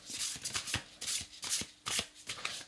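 Tarot cards being shuffled and drawn from a Black Madonna tarot deck, with close, repeated crisp riffling bursts in an uneven rhythm and no voice.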